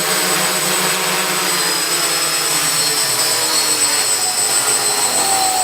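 A hexacopter drone's six electric motors and propellers running at half throttle during an indoor test in a dusty room, giving a loud, steady, high-pitched whine and whir with an even tone and no pauses.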